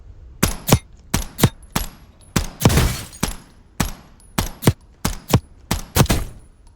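Pistol firing in Call of Duty Warzone, Black Ops 6 Season 3 on Verdansk: about fourteen loud, sharp shots in quick pairs and short groups, close and crisp with brief echoing tails and no talking.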